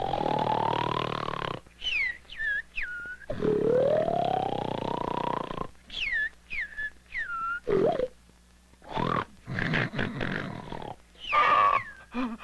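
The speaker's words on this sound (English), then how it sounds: "I can't stand that snoring any longer." Cartoon-style loud snoring, long rasping inhales broken by whistling, squeaky exhales, repeating in uneven bursts with short silent gaps.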